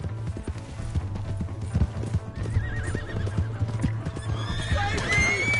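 A horse in the Red Dead Redemption 2 video game whinnies loudly over a steady, close clip-clop of hooves, with game music and ambience underneath.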